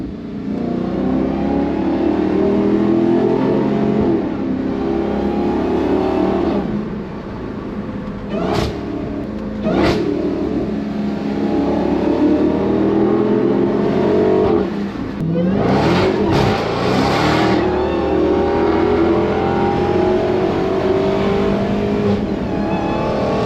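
A Dodge Hellcat V8 fitted with a Valvetronic Designs valved sport exhaust accelerates hard with the windows down. It gives a loud, continuous, deep engine roar that climbs and dips through gear changes, with no talk.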